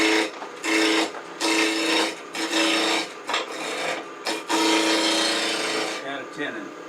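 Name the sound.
wood blank being turned on a lathe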